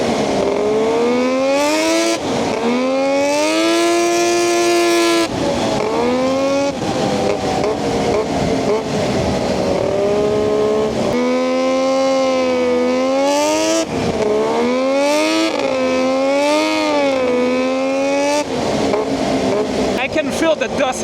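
A 140HP sleeper ATV engine revs hard and loud with sustained, rising and falling pitch in repeated pulls, running without brakes and without air filters while kicking up dust.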